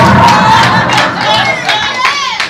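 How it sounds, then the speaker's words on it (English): A live audience applauding and cheering at an interview event, loud crowd noise with shouts and claps filling the whole stretch, voices mixed through the din. "A little more applause for that."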